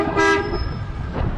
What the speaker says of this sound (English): Honking like a insane person.